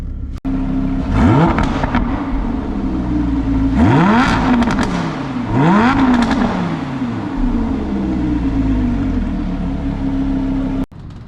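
A Lamborghini Huracán engine revs hard three times, each burst climbing in pitch and falling back, with a steady loud idle rumbling between and crackles on the overrun.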